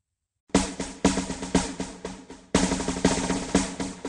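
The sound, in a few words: drum playing in a kids' learning game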